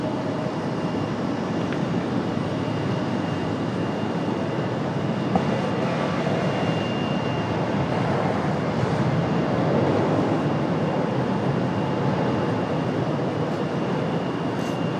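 Southwest airliner departing Raleigh-Durham airport, a steady broadband jet roar sustained throughout at moderate distance, swelling slightly midway with no talk.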